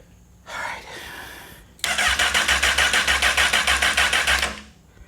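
A rebuilt 2008 Honda CBR1000RR street fighter motorcycle engine cranks up close. A short starter burst comes first, then about three seconds of loud, rhythmic, pulsing cranking that stops without the engine running on.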